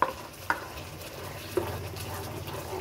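Balochi karahi, restaurant style, being sautéed and stirred in a pan: a soft, steady sizzle with a few sharp spoon-on-pan knocks scattered across the short stretch.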